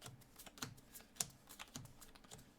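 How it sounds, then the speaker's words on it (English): Playing cards dealt one at a time into two separate piles for a game of War, giving soft, quiet snaps and slaps at an irregular pace, about five distinct flicks, alone without talk. "notice I'm dealing cards"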